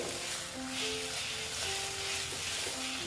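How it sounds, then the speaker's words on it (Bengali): Bitter gourd and pumpkin are stirred in a frying pan as a dry chhechki cooks. A steady, close sizzling hiss runs throughout beneath soft sustained melodic tones, with no speech. "আমি এটাকে আবার নেড়ে চেড়ে নিচ্ছি ভালো মতন"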